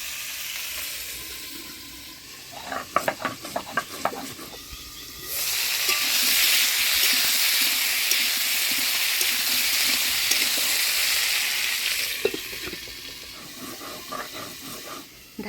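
Potatoes and pointed gourd fry in a pan with a few clinks and stirring at first, then a loud steady sizzle and hiss that fades back to quieter frying, with no talking.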